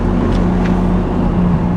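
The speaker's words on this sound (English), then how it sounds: "You're only revving it to 5K." A modified 600-wheel-horsepower car engine revved to about 5,000 rpm drones loudly and steadily up close, a constant deep rumble with a hum that stays level through the short clip.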